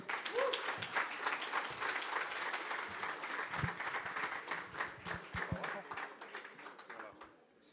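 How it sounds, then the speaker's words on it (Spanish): Sustained audience applause for a speaker at a Fvckup Nights event in Mexico City, dense clapping from a crowd with a few cheers mixed in, fading out at the end. "un aplauso"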